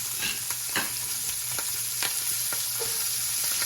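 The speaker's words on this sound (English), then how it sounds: "I'm going to add our onions. Careful, it's going to make a little noise here." Steady sizzling from onions frying in a pot for beef stew, with faint scraping and clicks of stirring, no voices.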